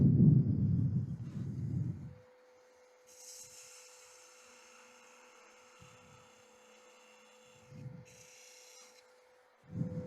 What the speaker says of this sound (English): That's good enough for sanding.